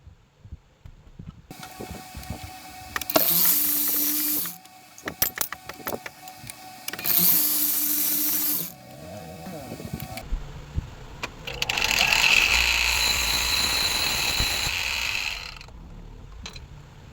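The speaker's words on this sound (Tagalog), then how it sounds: "lininis na po natin yung mga engine valve sa pamamagitan lamang po ng hand drill" A hand drill spins in several bursts, whirring and rattling as it cleans engine valves during a Mitsubishi Mirage G4 engine reconditioning, with a longer, brighter grinding run near the end and brief quiet gaps between.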